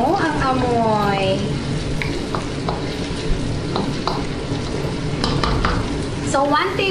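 Crushed garlic, about four cloves, sizzles steadily in a hot frying pan, with stirring scrapes and clinks against the pan while a voice talks intermittently over the frying.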